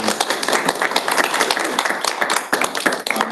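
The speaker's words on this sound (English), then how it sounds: "can we all just give a round of applause to all the programs and what they're doing?" A round of applause from attendees at a Juvenile Crime Prevention Council meeting: dense, steady clapping from a room of people, loud and continuous throughout with no talk over it.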